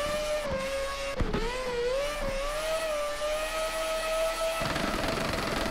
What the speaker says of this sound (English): Just banging red line across the line. This car is crazy loud.